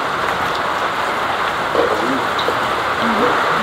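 Rain pouring steadily during an outdoor boodle-fight meal in a typhoon, a dense continuous hiss close around, with faint voices talking beneath it.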